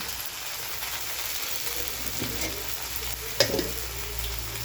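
Oil heated for tempering sizzles and crackles steadily in a hot pan, with a sharp metallic clink partway through.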